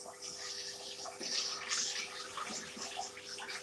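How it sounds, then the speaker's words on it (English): Running tap water splashing over a cooking pan being rinsed in a home kitchen, a steady hissing flow with small bursts of splashing, close and moderately quiet with no talk. "Let's clean this pan because we really want to do our rice with that."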